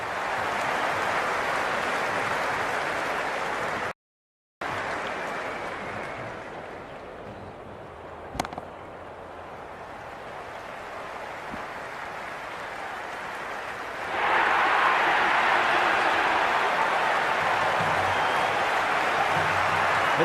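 A stadium crowd roars in a cricket video game, a broad, steady wash of cheering noise that briefly drops out and then swells louder near the end.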